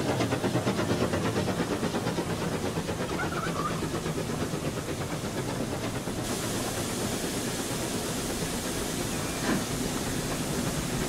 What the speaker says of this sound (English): All trains coming in.